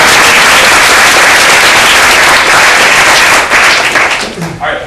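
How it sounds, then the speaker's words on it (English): A roomful of about fifty people at a workshop on motivational interviewing for child and adolescent mental health applauds, giving a dense, loud, steady wash of clapping that eases off slightly near the end. "We have a round of applause."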